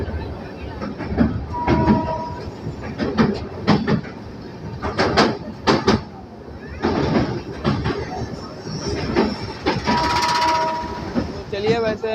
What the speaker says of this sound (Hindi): ट्रेन यमुना रिवर को पार कर रही है